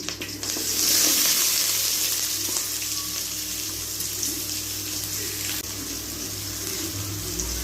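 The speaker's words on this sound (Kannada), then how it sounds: "ಎಣ್ಣೆ ಕಾದ್ಮೇಲೆ ಕರಿಬೇವಿನ ಸೊಪ್ಪು ಮತ್ತು ನಾನು ಸಣ್ಣಗೆ ಹಚ್ಚಿಟ್ಕೊಂಡಿರೋ ಈರುಳ್ಳಿ ಎರಡು ತೊಗೊಂಡಿದ್ದೀನಿ" Curry leaves and finely chopped onion sizzle in hot oil for an egg bhurji, a steady close crackle with a brief louder burst near the start and faint stirring through it.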